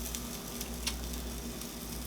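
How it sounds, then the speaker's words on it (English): Crispy pork chops fresh from an air fryer sizzle and crackle softly in a continuous hiss, with a few faint pops over a low steady hum. "Hear the sizzle?"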